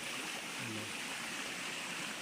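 River stream flowing in a forest, a steady broadband rush of water with a brief low sound partway through.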